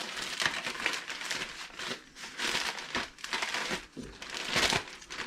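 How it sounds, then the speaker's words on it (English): A large banana leaf being folded and slid into a zip-top bag gives off continuous crinkling and crumpling, close up and fairly loud in irregular bursts, with no talking. "you can just kind of fold it up like this. Give it a little side fold like that. And you can just slide it into a zip top bag, as Alton Brown would say."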